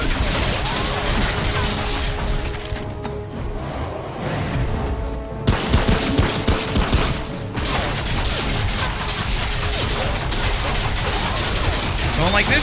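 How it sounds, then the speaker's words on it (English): Steady pistol gunfire and a dense clatter of combat from Remnant: From the Ashes pile up into a loud, continuous barrage, with a voice speaking briefly over the action. "Gonna have to use my pistol a bit."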